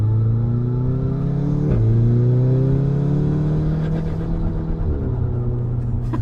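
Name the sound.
APR Stage 3+ Golf R accelerating with launch control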